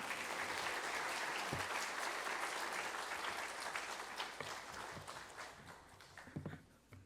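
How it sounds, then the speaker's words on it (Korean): A church congregation at a Friday evening prayer meeting applauds to welcome a missionary, with steady, dense clapping that fills the room and slowly thins out toward the end. "박수로 맞이하도록 하겠습니다."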